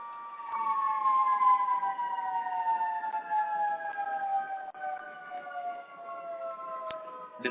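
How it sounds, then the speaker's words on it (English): A siren sounds steadily in the background, its tone sliding gradually downward as it passes at a distance, faint and alone without speech. "I'm taking a pause because there is a siren going behind."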